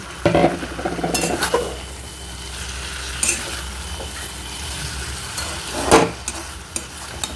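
Rasgullas being stirred into navratan korma in a pan, with repeated scraping and clinking of a spoon against the pan over a steady low sizzle, a few sharper metallic knocks standing out.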